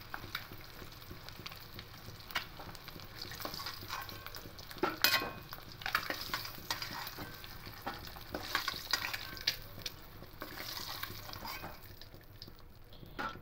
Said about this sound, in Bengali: ডিমগুলো হালকা লাল লাল করে ভাজা হয়ে গেছে